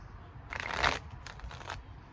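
A short burst of tarot cards being shuffled close by, a riffling flutter followed by a couple of softer shuffles.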